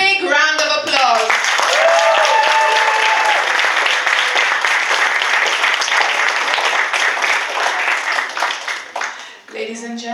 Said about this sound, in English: give the IMBA 2023 graduating class a big round of applause